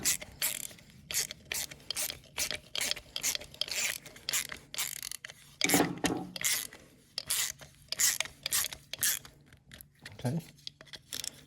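Socket ratchet tightening the carburetor screws on a lawnmower during a carb cleaning, a rapid series of short clicking bursts in close repeated strokes, with brief pauses between.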